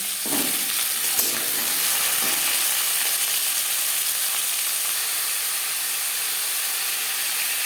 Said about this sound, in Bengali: শুকনো লঙ্কা কুড়ি পঁচিশ সেকেন্ড ভেজে নেওয়ার পর দিয়ে দেবো কুমড়ো